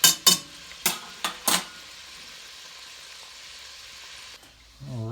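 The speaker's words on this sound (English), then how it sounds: "Added my shallots, gonna brown these" Shallots browning in a hot pan for a rabbit dish in cream and mustard sauce give off a steady, close sizzle after a few sharp clanks of utensils at the start, and a voice comes in at the very end.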